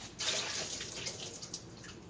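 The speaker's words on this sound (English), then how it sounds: "And you need to drain your cans of green beans." Liquid drains from opened cans of green beans, a steady watery trickle and splash running without a break, close by and moderately loud, with no talking.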